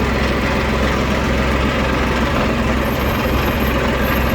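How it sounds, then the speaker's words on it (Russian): A three-cylinder Yanmar YM1610D mini tractor engine idles with a steady, dense low rumble that stays even and close for the whole stretch, with no voices. "Ну, собственно, работа трехцилиндрового Янмарчика."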